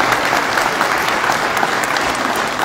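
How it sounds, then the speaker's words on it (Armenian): Crowd applause at an outdoor election campaign rally in Gyumri, Armenia, a dense, steady wash of many hands clapping at once, loud and continuous with no pauses or voices on top. "խնդրեմ ծափահարություններով"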